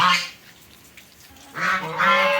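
Loud nasal honks from a goose, a burst at the start and two more near the end, separated by a quieter stretch of background.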